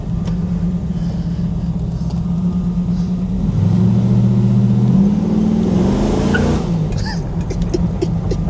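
A restored 1969 Chevrolet Camaro SS with a 383 V8 rated at 430 hp revs hard while driving, its loud, close engine rising and falling through the gears, with a brief tire squeal as it slides.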